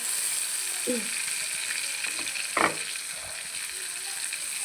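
Garlic and onion fry in a pan with a steady, hissy sizzle at moderate level. A couple of brief faint voice-like sounds and a short clatter rise above it.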